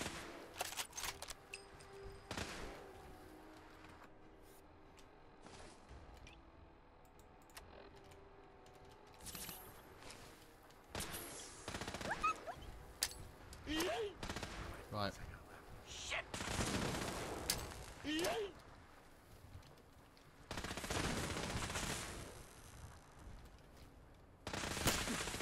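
Gatling laser fire in Fallout 4 comes as sharp rapid bursts of gunfire between quieter stretches, mixed with clicky keyboard-like tapping and occasional talk.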